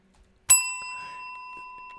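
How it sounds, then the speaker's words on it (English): One bright bell ding with a sharp strike and a long ringing metallic tail that sustains and slowly fades, standing alone over near silence like a notification chime. "Hit the bell that makes it go"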